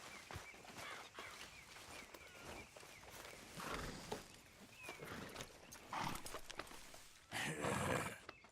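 A horse clip-clops along at a steady walking pace in Red Dead Redemption II, its hoofbeats close and rhythmic over an outdoor ambience, with a few louder rustling bursts toward the end.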